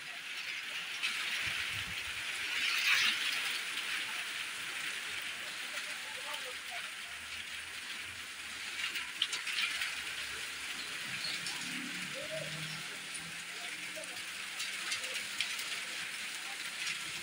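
Steady heavy rain hisses on a surface in the Cholistan desert, a dense continuous patter with faint distant rumbling underneath.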